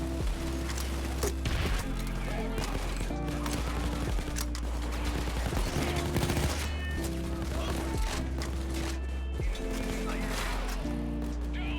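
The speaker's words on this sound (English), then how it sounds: "Everybody fucking shooting at me." Rapid gunfire bursts and shots in the video game Payday 2, continuous and busy over droning game music and effects, with occasional impacts.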